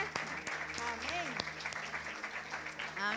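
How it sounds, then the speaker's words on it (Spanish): A church congregation applauds during a sermon, with brisk, moderately loud clapping mixed with raised voices calling out over it. "Dale el aplauso al Señor"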